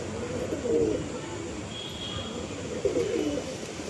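Soft cooing from a pair of Andhra pigeons, two low murmuring coos about two seconds apart, close by over steady background hiss.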